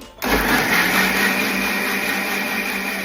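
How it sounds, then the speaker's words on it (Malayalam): A mixer grinder blends dragon fruit into juice, cutting in abruptly after a brief quiet moment and then running as a loud, steady, close whirring drone. "അപ്പം ഞാൻ മിക്സിയിൽ അടിച്ചിട്ടെടുക്കാണ്."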